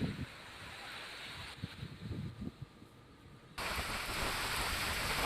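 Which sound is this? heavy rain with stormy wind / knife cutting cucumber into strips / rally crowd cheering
heavy rain with stormy wind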